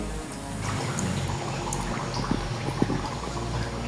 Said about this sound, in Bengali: এভাবে আমরা সবগুলো পিঠা ভেজে নেব